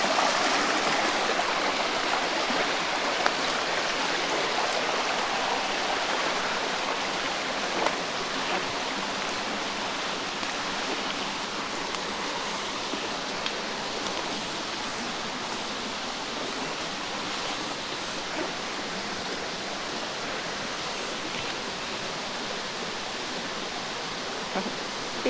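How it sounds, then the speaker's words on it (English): Muddy stream running in spring, a steady broadband rush of flowing water heard close and continuous, with no talking. "So you can see how muddy or unclear the water is."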